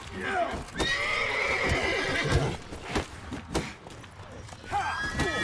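Horses in The Witcher 3 video game whinnying repeatedly and clip-clopping on hooves, several neighs rising over the steady hoofbeats, with someone talking over the game sounds.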